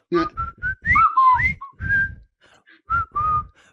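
Someone whistles the Colonel Bogey March, a jaunty military tune, close and clear, in short bouncy phrases with brief pauses between them.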